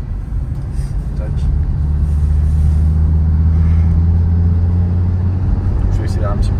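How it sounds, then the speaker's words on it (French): An Audi TT RS turbo engine builds a deep rumbling drone as it accelerates gently along a country road, heard from inside the car with a voice speaking over it. "Je vais accélérer un petit peu."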